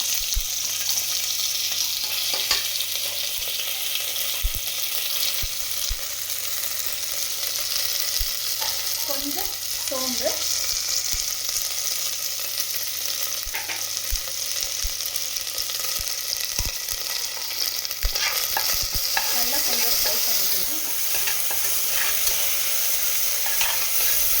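Mint with ginger-garlic paste frying in a pan for chicken biryani, a steady broadband sizzle running throughout, with occasional scrapes and clinks of stirring and faint water-like bubbling bursts.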